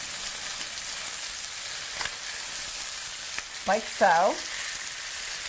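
Chicken thighs sear in a pan with a steady, close sizzle, broken by a louder burst of clatter and spitting as pieces are flipped; a voice speaks briefly.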